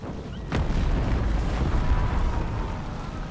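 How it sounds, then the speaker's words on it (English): Cannon fire during a battle in the strategy game Empire: Total War, a deep rumbling boom after a sharp onset that rolls on continuously, heavy and loud throughout. "Come on, cannons."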